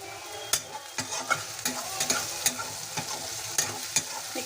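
Coriander powder and masala frying in a pan while being stirred for a chola recipe, a close, steady sizzle broken by repeated spoon scrapes and clinks against the metal pan.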